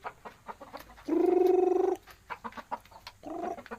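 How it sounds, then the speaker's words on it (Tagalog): A hen with a brood of newly hatched chicks gives a loud, sustained trilling cluck up close, surrounded by short, scattered peeps and soft clucks. "may mga bagong sisiw na naman ako"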